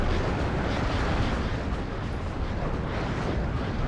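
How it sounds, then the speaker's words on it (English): Continuous artillery fire and explosions rumble through a WARNO 2v2 tournament match, a dense, steady roar of overlapping blasts with no distinct gaps, loud and sustained throughout. "that artillery is just eating them up"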